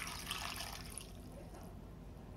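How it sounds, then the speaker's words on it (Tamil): A cup of water poured into a pressure cooker while making idli sambar, a close, steady splashing pour that fades slightly over two seconds. "தண்ணி ஒரு கப் அளவு"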